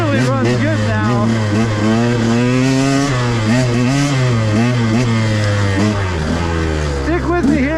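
A motorcycle fitted with a Keihin 36mm carburetor running close by, its engine note swelling and dropping through repeated revs, loud and continuous under someone talking over it throughout.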